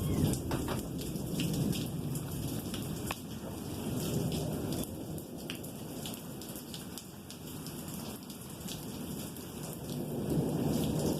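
Steady rain pours throughout a thunderstorm while low thunder rumbles and rolls continuously beneath it, with scattered sharper drops close by.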